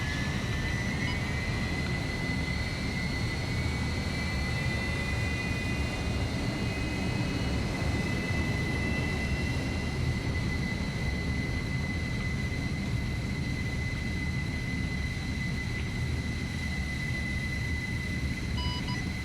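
Aircraft engine noise in ArmA 3 on a runway, heard as a steady, continuous droning roar with a high whine on top, holding fairly even throughout and with no voices.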